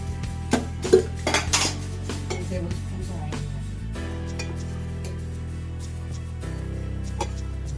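A pan set down on a stove while cooking a soya chunk masala curry. A cluster of metallic clanks and clinks comes in the first two seconds, then a steady low hum continues.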